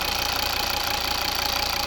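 Even, quiet idling of a 2011 Volvo V60's 2.0 D4 diesel engine, a continuous close-up hum with a soft diesel tick, holding the same level throughout with no speech over it.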